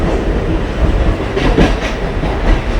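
A local train pulls away from a station, a loud close rumble with rhythmic clickety-clack of wheels over rail joints filling the whole stretch.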